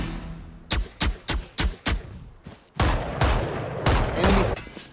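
Gunfire in the Valorant shooter on the Breeze map: five evenly spaced single shots followed by a denser burst of rapid fire, loud and close with no talk over it.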